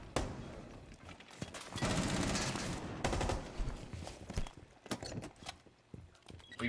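A light machine gun in Rainbow Six Siege fires in rapid bursts, with a sustained volley in the middle and scattered sharp shots around it, fairly loud and dense.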